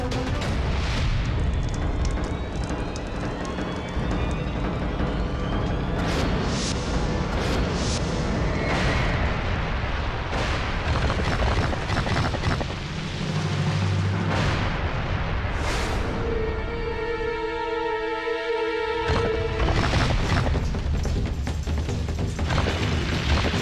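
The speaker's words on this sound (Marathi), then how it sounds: "बहरे को भी सुनाई दे ऐसा धमाका था." Explosive blasts boom through a historical drama scene, a series of heavy, deep impacts and rumbling bursts with sharp cracks scattered across the stretch, loud and continuous with no talk.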